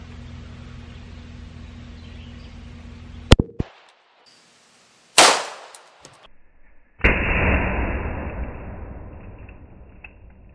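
A gunshot blasts into a giant clay block at close range, giving a sharp crack followed by a second loud report and then a long spray of clay fragments pattering down.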